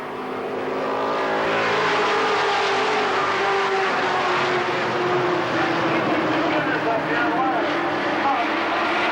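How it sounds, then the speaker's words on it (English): Race cars at Kil Kare Speedway roar loudly together at the green flag, engines revving and surging as they run side by side into the turns, with an announcer talking over the noise. "The green flag flies and we are racing."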